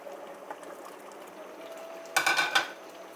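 Chicken pieces dropped into fried masala in a pot, a burst of loud sizzling hiss after a quiet stretch of low bubbling and a faint clink.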